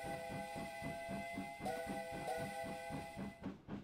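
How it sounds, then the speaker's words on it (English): A steam locomotive's whistle blows in a train simulator game over the rhythmic chuff of its exhaust. The chord-like whistle sounds in a few sustained blasts, then breaks off near the end. "I could literally blow the whistle."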